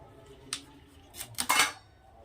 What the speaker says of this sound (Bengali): এখন আমি ফুলকপিটাকে ছোট ছোট করে কেটে নেব।